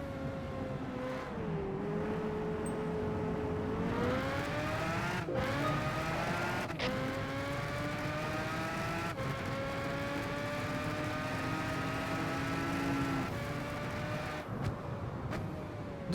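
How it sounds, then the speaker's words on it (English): Race car in Gran Turismo 5 speeding past, a steady engine whine rising and shifting in pitch over sixteen seconds, faint and continuous with no talk. "Just heard a car fly by"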